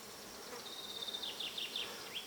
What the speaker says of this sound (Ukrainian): Тут внизу бджоли багато, але я чую, що там творить бджола вверху